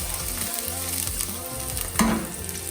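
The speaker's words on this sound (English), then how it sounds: "we're going to add the little white parts of the bok choy. And we'll just cook these up" Small white pieces of bok choy sizzle and fry in hot olive oil, a soft, steady crackle with a louder burst near the end as they are stirred.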